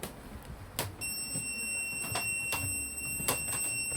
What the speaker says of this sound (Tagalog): may beep po yung ating inverter